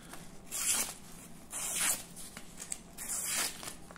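A Benchmade Mini Bugout folding knife slices through a sticky post-it note in three quick, close strokes, each a soft tearing swish roughly a second apart.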